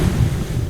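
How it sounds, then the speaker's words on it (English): Ocean waves roll below a cliff in the video game What Remains of Edith Finch, a loud, steady wash of surf and wind noise that fills the short moment with no talk. "I rolled off a cliff and into the ocean."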